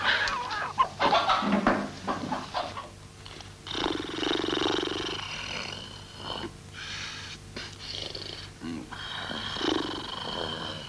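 A rooster crows and clucks repeatedly, fairly loud and close, in a rural yard in a 1964 Italian film, with rustling and other fowl sounds around it.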